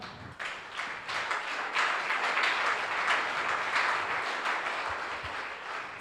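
A church congregation applauds loudly and steadily, a dense wash of many hands clapping together with no voices over it.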